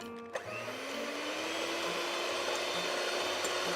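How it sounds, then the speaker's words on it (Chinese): An electric hand mixer whisks egg whites with sugar. After a short click, the motor starts up and settles into a steady, close whine that rises slightly in pitch as it speeds up, with no talking. "然后我们继续开动打蛋器，可以中速转高速。"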